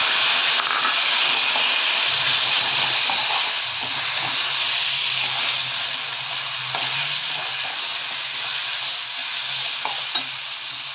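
Boiled taro dropped into a hot pan with cumin and bay leaf, giving a loud, dense sizzle and hiss that starts strong and settles into a steady frying crackle, with faint stirring clicks.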